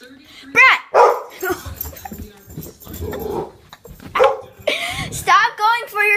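A pet dog barks and yips excitedly in a home while chasing a cat, with sharp repeated barks and whimpers mixed with loud, urgent human shouting throughout.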